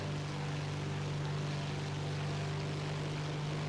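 Propeller-driven engine drone of a P-38L fighter in the combat flight game War Thunder, a steady, even hum holding at constant loudness throughout with no speech.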